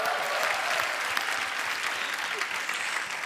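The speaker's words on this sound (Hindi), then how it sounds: "जोरदार तालियां हो जाए एक बार," Studio audience on a comedy show gives sustained, dense applause, steady and loud throughout without voices rising above it.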